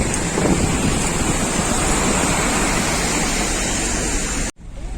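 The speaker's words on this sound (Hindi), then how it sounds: "Just look at the size of this waterfall." A large roadside waterfall on the mountain road between Chandratal and Manali roars as a constant, loud broadband rush mixed with wind buffeting the microphone, cutting out briefly near the end before resuming.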